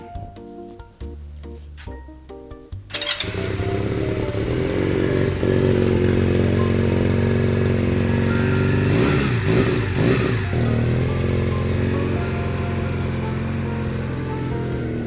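A 2020 GPX Legend 250 Twin motorcycle cranks briefly, fires up, then settles into a steady, close idle with an even, slightly clattery rumble that continues throughout.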